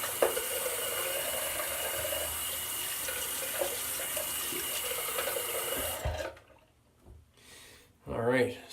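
Water runs steadily from a tap as a razor is rinsed beneath it, a continuous close splashing that lasts most of the stretch before cutting off, with a brief voice near the end.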